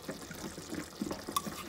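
Tomato ketchup paste pouring into a pan of beef lasagna sauce, giving a short run of soft, wet splatting and dribbling sounds close by, with no one talking.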